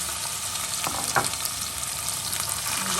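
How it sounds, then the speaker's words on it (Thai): Garlic going into hot sesame oil in a home kitchen pan, giving a steady broadband sizzle with a few brief louder crackles and stirring scrapes, close and continuous with no talk. "น้ำมันงาค่ะ นี่จะใส่กระเทียมค่ะ"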